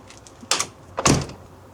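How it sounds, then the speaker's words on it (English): Two quick thuds as an interior door, repaired so it no longer squeaks, swings shut with a hollow knock, close and alone. "when I close the door, I don't know if you can tell, but see how more hollow this door sounds without the squeaking"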